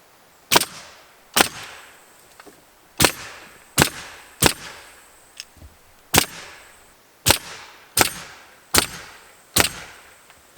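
Sharp, loud pneumatic nail gun shots fastening tongue-and-groove subfloor sheathing on a cabin floor frame, about eleven bangs fired at an irregular, steady working pace with quiet gaps between.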